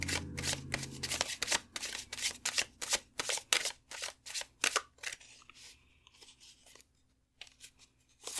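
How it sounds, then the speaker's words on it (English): A tarot deck shuffled by hand with dense riffling bursts, then a series of separate crisp card snaps and slides as cards are drawn and laid down, close and alone in a quiet room. "Let's grab 5 cards."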